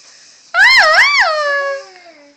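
A child imitates dolphin sounds in a loud, wavering, high-pitched squeal that rises and falls twice, then trails off into a fainter tone, alone without talk.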